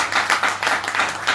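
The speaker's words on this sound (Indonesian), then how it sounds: "Dan kita bagi tepukan yang sangat gembira." Audience clapping at a presentation: a short burst of steady, moderately loud applause with no talk over it.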